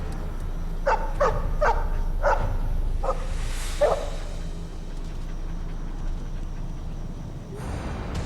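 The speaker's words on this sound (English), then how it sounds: "It's a puppy." A puppy barks in Dragon Age: Origins, giving about six short, sharp yaps in a quick series over the first four seconds, close and clear above a low steady game ambience.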